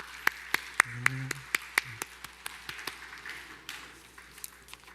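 Sparse hand claps during a Sunday church service, around a dozen sharp claps spaced out and gradually thinning, with a brief voice and faint congregation noise underneath.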